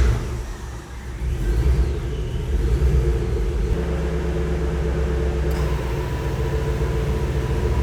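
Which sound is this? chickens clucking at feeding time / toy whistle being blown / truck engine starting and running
truck engine starting and running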